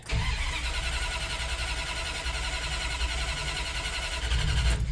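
A Ramcharger engine, its carburetor bowl emptied by heat and fitted with a full Holley Hooker exhaust, cranks a couple of times and then catches, settling into a steady, even running drone nearby.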